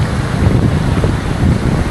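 Strong wind blows steadily across a microphone on a rainy beach in Real, Quezon, a dense low roar with gusts and possible surf beneath, continuous and close with no talking.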